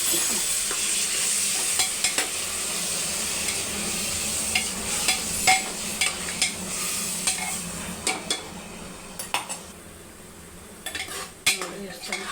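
Ground masala and mint frying in oil for Andhra-style chicken biryani, a steady close sizzle with repeated scraping and clinks of a metal ladle stirring the pan.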